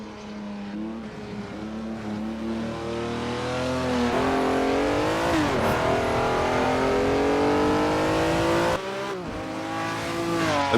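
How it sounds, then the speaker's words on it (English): A Ferrari 330 P4 vintage race car howls at full throttle, loud and close, with its revs climbing through the gears and a brief lift before the engine screams again. "330 P4 just begs for throttle"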